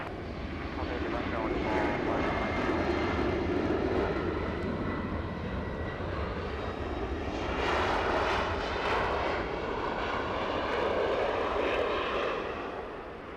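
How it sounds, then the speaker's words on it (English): A Delta Boeing 767 takes off at Los Angeles with a powerful, sustained jet roar that rises and falls in waves as it climbs, while people talk under the engine noise. "Delta 767 taking off."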